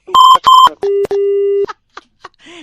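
Telephone keypad tones ring out as a call is placed to a radio station: two short dual-tone beeps, then a longer steady tone, followed by faint clicks and brief blips in near silence.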